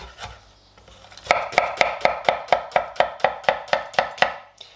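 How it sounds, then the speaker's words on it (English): A knife finely dicing an onion on a board: after a soft start, a quick, even run of about twelve crisp chopping strikes, close and clear, with no talk. "So I'm just going to chop it nice and finely."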